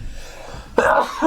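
Someone sneezes once, an abrupt loud burst close to the microphone, at a basketball debrief following a Nuggets versus Suns game.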